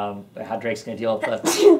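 Someone talks, then gives a short, sharp sneeze near the end, close and loud.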